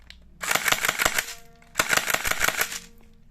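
An automatic pellet gun fires .20 pellets in two rapid bursts of close, sharp popping shots, each burst lasting just over a second, with a short pause between them and no talking.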